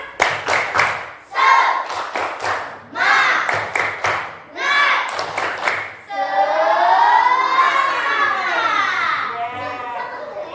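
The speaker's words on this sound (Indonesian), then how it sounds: "kita tepuk semangat dulu untuk mulai pelajaran hari ini" A classroom of children performs a rhythmic clapping chant led by a teacher, with sharp clustered claps in groups between chanted lines, then sustained excited voices of many kids.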